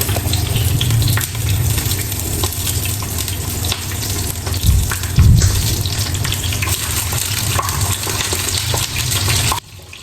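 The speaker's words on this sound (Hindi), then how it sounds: "ये इस तरीके से लाइट फ्राई हो रहे हैं" Eggplant slices fry lightly in a pan with a steady, close sizzling hiss that continues almost without a break, then cuts off near the end.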